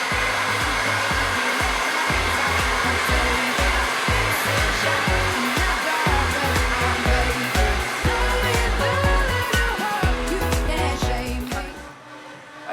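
A hair dryer blowing steadily and loudly while hair is blow-dried smooth with a natural bristle brush in a salon, continuous airflow that drops away near the end.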